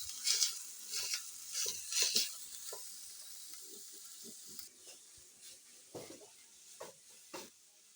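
A wooden cooking stick stirring Kenyan food with carrots and rice in a pot over a fire, producing soft scraping strokes and a faint, steady sizzle, quiet throughout with uneven stirring rhythm.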